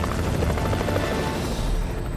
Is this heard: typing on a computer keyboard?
no